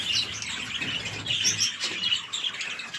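Many small birds chirp and tweet continuously in a dense, bright chatter, fairly close and fairly loud, with no voices.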